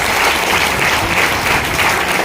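Loud, dense applause from an indoor audience honoring donors at a gathering in Nallasopara, steady and sustained from start to end with no talking over it.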